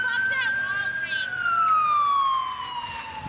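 An ambulance siren wails nearby with a long descending tone over traffic noise, loud and steady for a few seconds.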